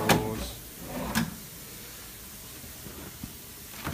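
Drawers in a Las Vegas hotel room slide and bump shut, giving two quick sharp knocks early on and a few fainter taps later against a quiet room hiss.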